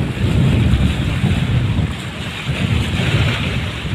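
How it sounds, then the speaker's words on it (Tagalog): Strong wind buffets the microphone at Manila Bay during high tide while waves wash in, a loud continuous roar with gusty swells and no talk. "Yung malakas yung hangin, high tide yata."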